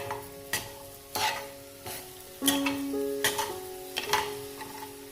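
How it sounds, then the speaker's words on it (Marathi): Sugar is stirred into cooked semolina for a mango sheera in a pan, with repeated spoon scrapes and taps against the metal over a faint sizzle; no voices. "आता ह्याच्यामध्येच जी आपण साखर घेतली आहे ती घालायची आणि छान अशी ह्याच्यामध्ये मिक्स करून घ्यायची"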